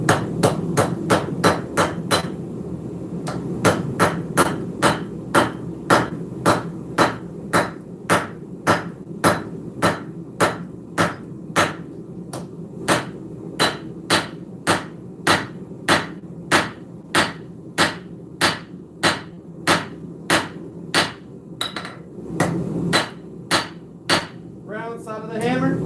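Sharp metallic hammer blows strike knife steel during forging in a steady, rapid rhythm, dozens of ringing hits close up, with brief pauses and a few words spoken near the end.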